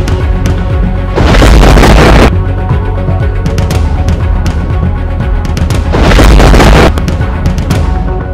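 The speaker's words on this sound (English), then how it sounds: "shots were being exchanged between the two armies" Battle sound effect of musket fire exchanged between two armies during Shays' Rebellion, loud booming blasts and dense overlapping gunfire rumbling continuously, with two especially heavy bursts standing out.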